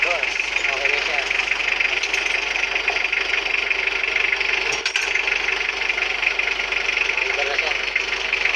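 A Mitsubishi L300 engine, fresh from a belt repair, runs at a steady, fairly loud idle for the whole stretch, with a brief dip in the middle and someone talking over it.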